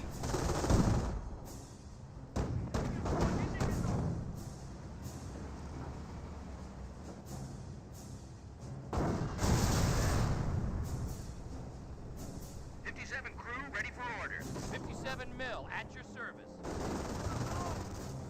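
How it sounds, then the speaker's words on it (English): MG42 machine gun bursts and rifle fire in the World War II strategy game Company of Heroes, sharp rattling volleys in repeated clusters with pauses between, loud and close over a battle ambience. "MG42 sitting on up, engaging the trench."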